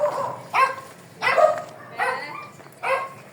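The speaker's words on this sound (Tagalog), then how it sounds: "Ingay ng mga aso." Dogs barking nearby, about five loud barks spaced roughly evenly apart, with no talking.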